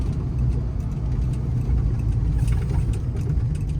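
A 2015 Ford F750 truck with a Cummins engine, air ride rear suspension and a Palfinger crane drives along with 288k miles on it. A loud, steady engine drone is heard from inside the cab.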